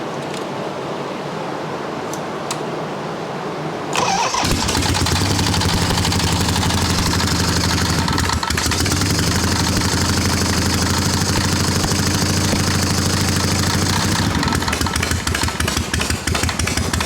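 XLCH Sportster chopper motorcycle with no throttle cables, manually primed, kicked over and catching after about four seconds, then settling into a loud, steady, rumbling idle up close, with no voices.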